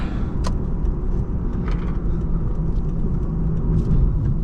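A 2012 Lexus IS350 F-Sport V6 engine hums and rumbles steadily from inside the cabin while driving, with faint clicks and a smooth, even drone throughout.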